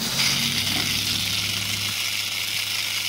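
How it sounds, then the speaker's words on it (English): Water pump on an LMTV camper build running quietly as water flows through the tank plumbing, a steady hiss and low hum held at an even level, close up, with no talking. "Pretty good, and the pump is really quiet."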